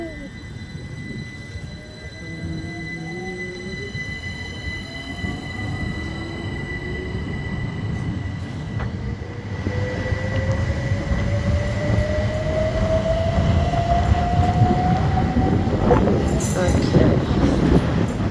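A train rolls past a level crossing beside a station, its steady rumble building louder over the clip while the wheels give a long, rising squeal. A voice speaks briefly near the recorder.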